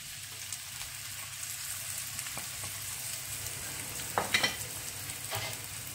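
Onions frying in olive oil in a pan on a gas stove, a low steady sizzle with a few scraping stirs of a utensil toward the end, fairly quiet and close, no voices.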